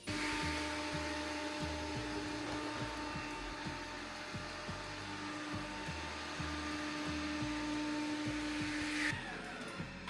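An iRobot Roomba robot vacuum cleaner runs with a steady whirring hum and a thin tonal whine over soft rhythmic low thumps, and the whine cuts out near the end.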